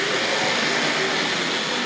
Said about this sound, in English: First train running on the new railway, as it were.